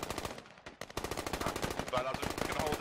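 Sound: gunfire in a video game firefight

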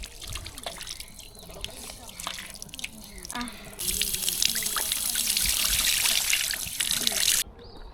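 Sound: water trickling while washing on a hot day

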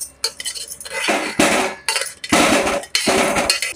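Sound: boiled gooseberries being put onto a plate

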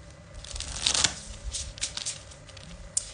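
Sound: shuffling a deck of tarot cards

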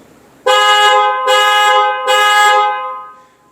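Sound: Lexus ES300h smart key panic alarm sounding

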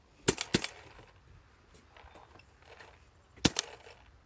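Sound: paintball marker shooting GI Evil paint

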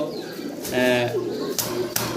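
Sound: pigeons cooing

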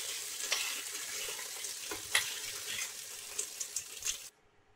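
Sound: soaked chickpeas frying and stirred in a pan

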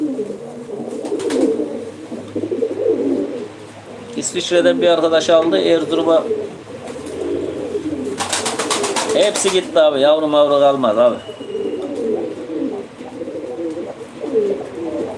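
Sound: pigeons cooing at a bird auction

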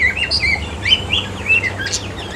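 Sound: small birds chirping in a pet bird shop

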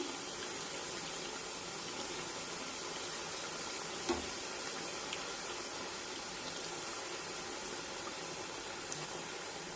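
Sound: puri frying in hot oil

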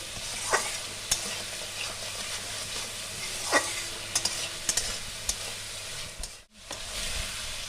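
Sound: frying spice masala for muri ghonto

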